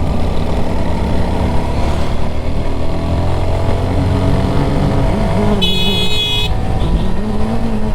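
A motorcycle with a rattling steel silencer rides along the Fasiakhali–Alikadam road. Its loud, continuous engine drone and road rumble fill the recording, and a short horn toot sounds near the end.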